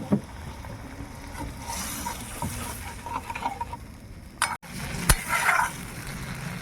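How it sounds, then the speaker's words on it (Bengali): Curry masala for a fish roe curry cooking in oil, with soft stirring and sizzling, then water poured into the pan brings a sudden splashing surge and bubbling hiss; no speech. "এবার আমি একটু জল দিয়ে দিচ্ছি"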